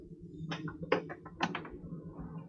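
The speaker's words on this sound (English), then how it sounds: "We have another closet with a 2-door closet with a rod that pulls down." Closet rod in a ship cabin closet being pulled down, giving several short mechanical clicks and rattles close by over a steady low background hum, with no talk.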